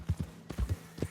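Horse hooves clip-clop in Red Dead Redemption 2, a few distinct close thuds in two short bursts separated by a brief pause.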